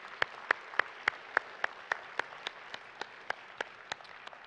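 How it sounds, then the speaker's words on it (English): A small church congregation claps slowly and sparsely in a steady, spaced rhythm for its worship ministry team, with distinct individual claps ringing out in a quiet room. "Give a good round of applause to our ministry team that leads us in worship every week"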